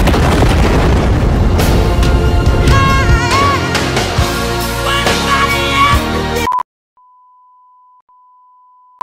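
An anime explosion sound effect booms loudly with crackling, rumbling debris and ringing tones, then cuts to near silence broken only by a steady faint electronic beep tone.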